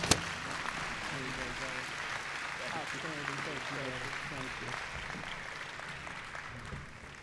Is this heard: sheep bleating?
no